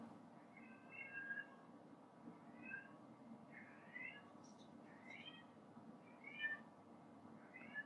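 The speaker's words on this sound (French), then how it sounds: "Vous entendez peut-être mon chat en fond." A cat meows repeatedly, faint and in the distance, over a low steady background hum.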